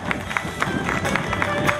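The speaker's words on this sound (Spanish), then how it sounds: "Fuerte el aplauso" Dense, steady audience applause at an evening Pre Cosquín folk festival in San José de la Esquina, greeting the dancers and singers, with rhythmic clapping bursts throughout and a faint voice underneath.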